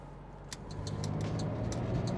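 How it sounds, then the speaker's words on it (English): A 280SL Mercedes R107 with a manual gearbox, engine warm, pulling hard as revs climb in a steady rising drone close by, with no talk over it. "Got some heat in the motor now, so you can get into it a little bit. Just sings all the way up to red line there."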